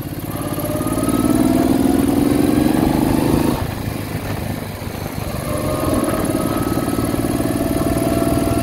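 A 1968 Moto Guzzi V7 700 with freshly sleeved cylinders being ridden, its engine droning loud and close, easing off briefly mid-ride before pulling steadily again.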